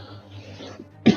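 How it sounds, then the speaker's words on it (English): One short, forceful cough from a person breaks through near the end, close and clear over a low, steady background hum. "I got a cough too."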